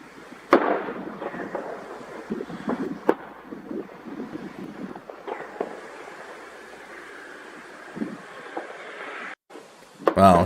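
Secondary explosions go off at a struck ammunition depot in Russian-controlled territory in Ukraine: scattered distant bangs and pops with a sharp crack near the end, over rushing wind noise and a few muffled voices.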